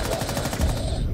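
Rapid burst of automatic gunfire in the Rainbow Six Siege video game, shots fired through a wall, loud and close, with a voice briefly present.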